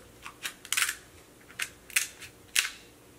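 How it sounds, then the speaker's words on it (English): Small fancy scissors snipping through king crab leg shells during a seafood boil meal: about seven sharp, quiet clicks and crunches in an uneven rhythm, close by, with no talk. "I'm getting a little better with the little fancy scissors."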